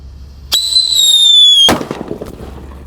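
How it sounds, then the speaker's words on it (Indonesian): A Black Buster firecracker wrapped in rolled cashier paper: a sharp pop followed by a loud, rising whistle lasting about a second, then a close, crackling bang that fades into scattered debris sounds. "Mercon Black Buster dengan kertas gulung kasir ini. Sudah menyala teman-teman."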